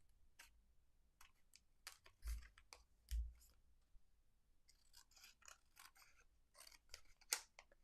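Close, crisp snips of scissors cutting, coming in irregular bursts of sharp clicks with a couple of dull thumps in between.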